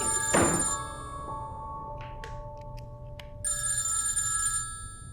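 A landline telephone rings in a quiet home, a bright electronic trill that sounds in two spaced bursts with a soft thunk between, close and clear with no talk over it.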